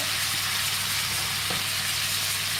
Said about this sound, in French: l'oignon coupé. Voilà, comme ça va griller un petit peu en même temps.